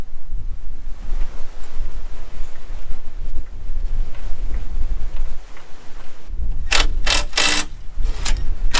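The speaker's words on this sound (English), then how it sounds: "maybe put a jack under here to lift this up the rest of the way" A jack lifting a tube fender into place on a Jeep TJ, wind rumble outdoors with a burst of several sharp metallic ratcheting clicks near the end, close and loud.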